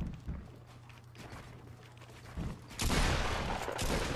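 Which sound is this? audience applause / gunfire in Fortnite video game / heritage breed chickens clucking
gunfire in Fortnite video game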